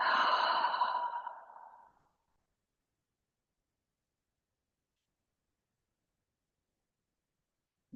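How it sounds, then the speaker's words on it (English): A single deep breath taken during guided relaxation, one soft, airy exhale lasting about two seconds, close and gentle, followed by silence. "Close the eyes if that feels okay. And take a nice deep breath."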